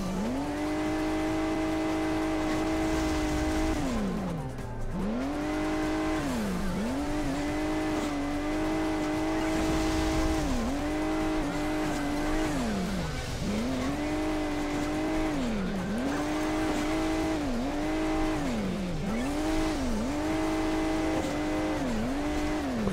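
A car engine in the mobile game Hill Climb Racing 2 on a sky-rock stage hums steadily, its pitch repeatedly rising and falling as the vehicle accelerates and eases off over hills, continuous and alone with no talk.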